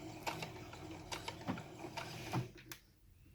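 Domestic sewing machine tying off a stitch while sewing a fabric face mask: a run of quick mechanical needle clacks and whirring bursts in a steady rhythm, close and moderately loud, ending in a brief pause.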